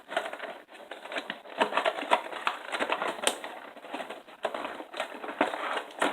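Scissors or a blade snip and crinkle through stiff plastic blister packaging holding Mattel RetroFest Elite wrestling figures, with irregular close-up crackling and cutting noises running steadily throughout.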